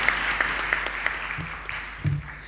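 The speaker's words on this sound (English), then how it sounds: "one more round of applause, please, to our chief guest" A seated audience at a capital markets authority strategic plan launch gives a round of applause for the chief guest, steady clapping throughout the short stretch with a few louder claps standing out.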